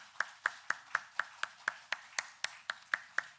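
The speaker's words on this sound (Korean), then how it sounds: "잠깐 일어나 주시면 우리 축복의 박수를 나누겠습니다." Church congregation clapping in blessing during a Sunday service, heard as a slow, evenly spaced run of about thirteen crisp, fairly faint claps in a reverberant room.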